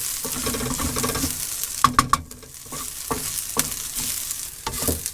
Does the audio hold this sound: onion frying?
yes